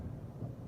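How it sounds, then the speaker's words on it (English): Low, rumbling thunder from a thunderstorm outside a house, a faint steady roll lasting under a second with no talk. "A thunderstorm."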